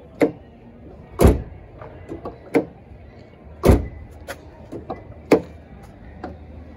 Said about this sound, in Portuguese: Eu não fechei a porta ainda, vamos testar agora.